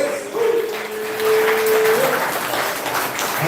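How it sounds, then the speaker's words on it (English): Audience applause for the poets at a poetry slam bout, steady clapping with a sustained tone running through the middle and some faint background voices. "Applaud those poets."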